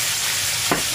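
Pork belly sizzles and fries in a hot pot as Sichuan pepper wine is splashed in, giving a steady close hiss with a brief burst of crackle near the end.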